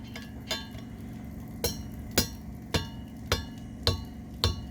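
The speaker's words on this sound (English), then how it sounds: "Go ahead and hammer it again." A hammer strikes a boat propeller, knocking it loose from its shaft, in a run of eight sharp metallic clinks spaced roughly half a second apart over a steady low hum.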